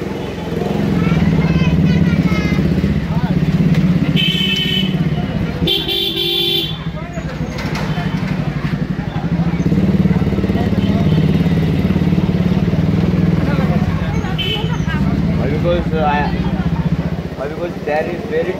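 Busy street traffic in Dharavi, Mumbai: a continuous rumble of engines and motorcycles with repeated car horn toots, and people talking close by throughout.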